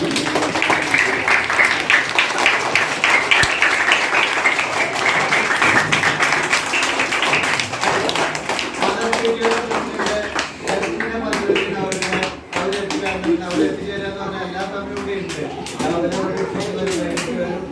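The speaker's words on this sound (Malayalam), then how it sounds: "അപ്പൊ വളരെ വേണ്ടിയായിട്ട് ഒന്ന് കൈയടിക്കല്ലാവരും" Audience clapping at a food festival inauguration in Kodamukku: dense, steady applause from a crowd that gradually thins out, with a speaker's voice over and after it.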